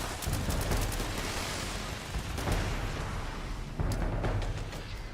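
Repeated grenade blasts and gunfire from the video game Fallout 76, dense overlapping booms and crackling bursts rolling continuously with a few sharper peaks, loud and close, no talking.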